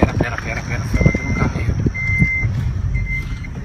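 Repeated electronic reversing beeps from a car backing up, three steady tones spaced about a second apart, heard under excited shouting and rustling outdoors.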